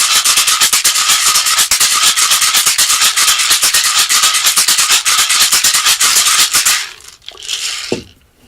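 An alto NAL box shaker shaken in a fast, steady rhythm makes a dense, loud gritty rattle that stops abruptly near the end, followed by a brief softer shake.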